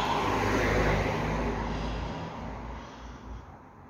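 A Cox model engine running too rich and misfiring, a rough, breathy buzz that holds steady and then slowly fades, heard close with no talking.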